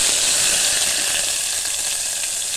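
Ground masala paste hits hot oil in a pan for a green broad bean curry and sizzles loudly and steadily, a dense close hiss that holds throughout with no voices.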